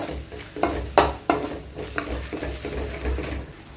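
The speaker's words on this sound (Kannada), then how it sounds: "ಸೊ ಇದು ಎಣ್ಣೆ ಬಿಟ್ಕೊಳ್ಬೇಕು ಚಿಲ್ಲಿ ಪೌಡರು, ಅಲ್ಲಿವರೆಗೂ ಸ್ವಲ್ಪ ಫ್ರೈ ಮಾಡ್ಕೊಳ್ಳೋಣ." Chili powder fries in oil with a close, soft sizzle, broken by several sharp spoon scrapes and knocks against the pan in an uneven rhythm.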